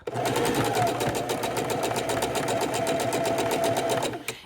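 A sewing machine runs a zigzag stitch for raw edge appliqué in one steady burst of rapid, even needle strokes, close and loud, stopping abruptly after about four seconds.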